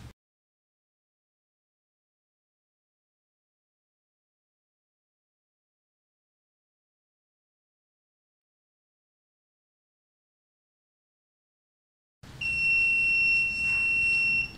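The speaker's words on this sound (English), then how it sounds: "Buzzer on." Near silence for most of the stretch, then a Raspberry Pi Pico pollution monitor's buzzer starts abruptly near the end, a steady high-pitched electronic tone that holds.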